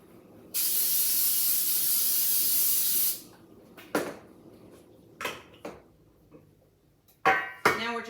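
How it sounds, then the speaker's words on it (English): A single steady hiss of about two and a half seconds as cooking spray coats a 9-inch cake pan, close and loud, followed by a few clinks and knocks of kitchenware. "I'm going to spray it."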